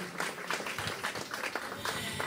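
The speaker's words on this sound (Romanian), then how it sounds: "Hai, aplaudați-o, aplaudați-o." Audience applause at an anniversary concert celebrating a singer's 40 years on stage, a steady dense wash of clapping hands lasting the whole moment at moderate level.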